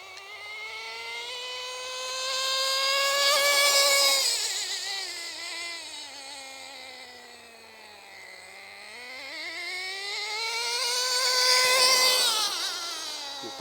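The small nitro engine of an RC10GT radio-controlled car whines at high pitch, its buzzing tone rising and falling twice as it speeds up and slows down, moderately near.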